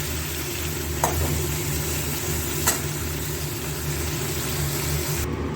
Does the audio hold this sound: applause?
no